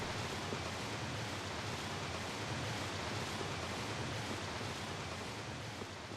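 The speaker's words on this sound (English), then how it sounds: "Waterfall is like mega loud." A steady, dense rush of falling water from a waterfall in the video game Tales of Vesperia roars continuously without pause, broad and loud like a waterfall heard up close.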